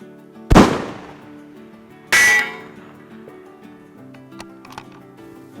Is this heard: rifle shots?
yes